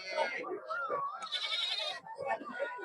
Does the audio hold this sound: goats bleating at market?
yes